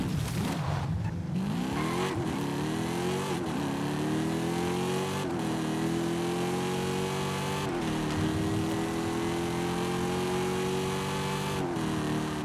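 A car in the video game Forza Horizon 5 drives over small hills, its engine droning loudly and continuously, the pitch rising and dropping repeatedly with gear shifts and throttle changes.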